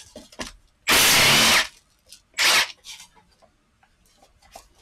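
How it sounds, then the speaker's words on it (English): Ratchet wrench working on rusty bolts of a Rotunda/Mazda transmission during a rebuild, heard as two loud bursts of close mechanical rasping, the first longer, with quieter clicks and handling noises around them. "I did bring the ratchet over here too"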